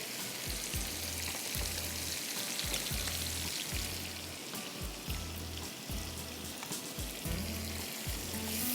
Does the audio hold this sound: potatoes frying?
yes